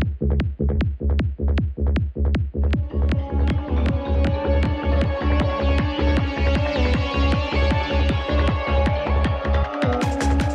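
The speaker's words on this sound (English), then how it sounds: "We had a hard time mixing the drums with the bass until we distorted them together quite heavily." Drums and bass heavily distorted together in a music mix, a loud pounding pattern of regular punchy hits over a thick saturated low drone, ending with a brief break and bright noise.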